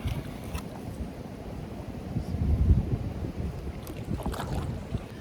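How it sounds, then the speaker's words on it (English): Gusty wind buffets the microphone during a kayak float on a creek, a low rumbling roar that swells and eases, steady and close throughout with faint water sounds beneath. "Here comes the wind, just a minute."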